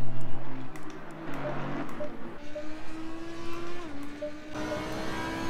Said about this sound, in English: So definitely getting engine sounds there.